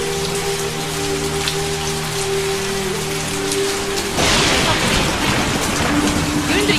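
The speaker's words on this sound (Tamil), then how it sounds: "ஒரே மின்னலும் மழையுமா இருக்கு" Heavy rain pours steadily during a lightning storm, a dense, loud hiss that swells stronger partway through and stays constant, with a low sustained tone underneath.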